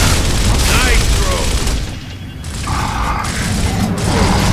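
Gunfire in the video game Gears of War during a co-op firefight, with loud bursts of shots and booms mixed with mechanical clanks, under continuous player talk.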